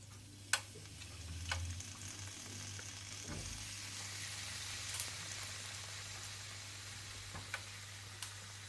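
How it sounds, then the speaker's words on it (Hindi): Chicken grilling on a hot grill gives off a soft, steady sizzle at low volume, with a few sharp ticks and pops scattered through it and no voices. "इस तरह से आप सारी चिकन को ग्रिल कर लें"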